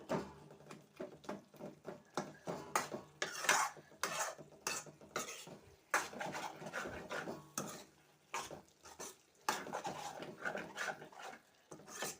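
A spoon scrapes and stirs chili powder into a curry of dried fish, tomato and cucumber in a pan, with irregular clinks and sloshing, fairly quiet and steady.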